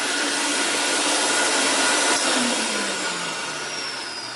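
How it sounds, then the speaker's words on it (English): A vintage Hoover Constellation Model 84 vacuum cleaner runs steadily and close, a loud broadband whoosh with a slight fluttering wobble, fading a little toward the end; no voices. "you can hear it floating and fluttering around a little bit as it's an older machine, but it is floating, it is moving in the air."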